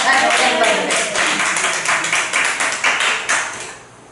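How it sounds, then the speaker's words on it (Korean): A church congregation claps in praise to God, many hands beating in a steady, rhythmic pattern close by, with loud regular bursts that fade out at the end. "자, 우리 하나님께 영광의 박수 칩시다."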